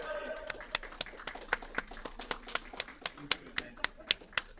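Spectators at a curling tie-breaker playdown applaud the players leaving the ice with sharp, separate claps at a steady slow pace, quiet and echoing, over a soft murmur of speech early on.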